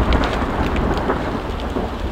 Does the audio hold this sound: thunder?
yes